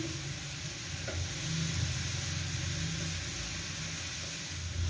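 Vegetables mixed with spices for a samosa filling, stirred and cooking in a pan with a low, steady sizzle and occasional scraping stir strokes.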